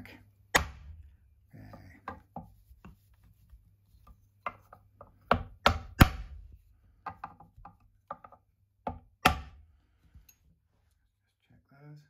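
Sharp, scattered hammer whacks as frets are driven into a guitar fretboard during a re-fret, irregular and fairly close, with brief speech and quiet gaps between strikes.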